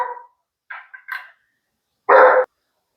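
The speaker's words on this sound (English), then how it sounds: "We have asshole dogs." Dogs bark in a few short, separate bursts close to the microphone, with a small yip early on and one louder, fuller bark near the end, with silence between them.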